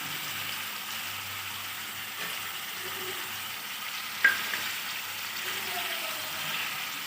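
Mutton with turmeric, salt and ginger garlic paste fries quietly in a pan, a soft steady sizzle with one sharp clink of a utensil midway and faint background murmur.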